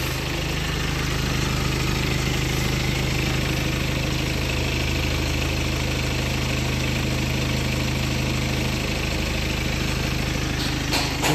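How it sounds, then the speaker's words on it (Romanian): A BMW X6M engine runs at a steady idle during a turbo actuator test, a continuous low rumble with a constant hum, its tone thickening slightly toward the end. "Acum o să auzim sunetul motorului când se face testul de actuator turbo."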